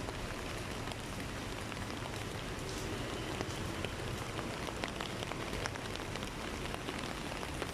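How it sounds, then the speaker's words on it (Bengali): Rain falls steadily on surfaces outdoors, a faint, even hiss of many droplets pattering throughout, with no speech. "এই যে বৃষ্টি বৃষ্টি বৃষ্টি"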